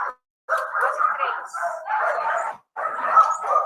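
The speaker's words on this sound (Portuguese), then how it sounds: "eu trouxe aqui para vocês o latido, eu espero que dê para vocês escutarem" A recorded dog barks in thin, midrange-only playback from a small speaker at an animal welfare talk, giving three or four rough bursts of barking separated by brief silences.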